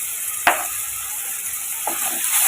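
Cut tomato with added salt sautéing in a pan, a steady broadband sizzle throughout with a couple of brief utensil scrapes and stirs, close and moderately loud, no voices.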